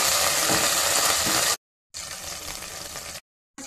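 Green chilies, onion and curry leaves frying in hot oil for an omelette, a bright, dense sizzle heard in close bursts separated by short silent cuts, with no voices.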